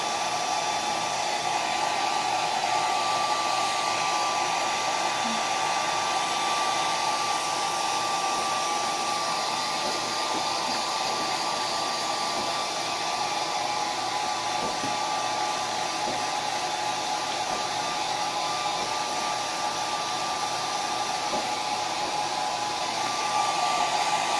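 A hair dryer blows steadily on a wig, a constant airy whoosh with a faint motor whine that holds at an even, moderate level without pause.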